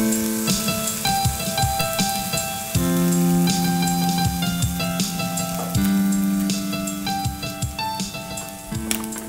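Andouille sausage and Cajun trinity vegetables sizzling steadily in a pan as the fat renders out, with a constant crackle and a few clinks from the pan.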